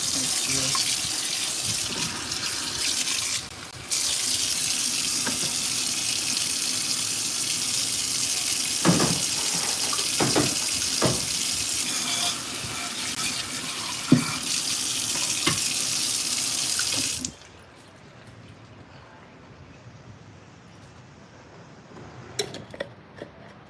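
Water running from a kitchen tap into a sink, a steady close hiss for about seventeen seconds with a brief interruption early on, then the flow stops, leaving quiet room sound with a few clanks.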